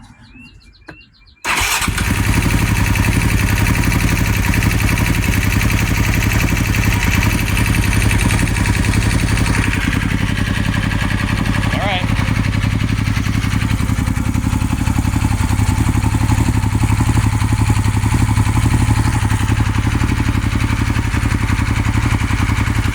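A 2008 Husqvarna TE450 motorcycle that has sat unused in a garage for months starts up after a brief quiet moment, then idles loudly and steadily close by with a rough, even thrum.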